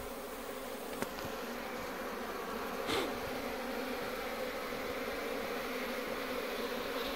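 Asian honeybees (Apis cerana indica) crawling into a wooden hive box outdoors in Mandi, Himachal Pradesh, a faint, steady buzzing hum throughout, with a couple of brief knocks and a short louder buzz of a bee passing close.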